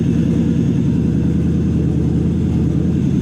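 A Toyota 1UZ V8 engine runs with a steady, loud, low rumbling idle throughout, close by and with no talk.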